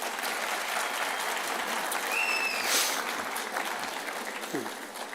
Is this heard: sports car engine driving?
no